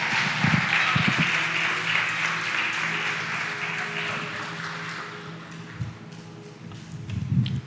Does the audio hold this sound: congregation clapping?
yes